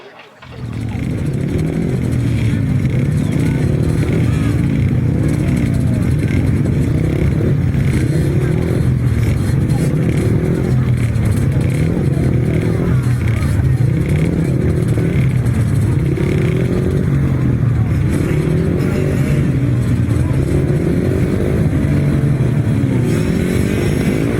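Grasstrack motorcycles in an Auto Cadets race rerun roar continuously at close range, engines droning and revving in overlapping waves for the whole stretch with no pause.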